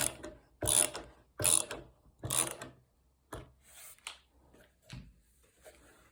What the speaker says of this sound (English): as we slowly tighten the screw should seat itself inside the hole.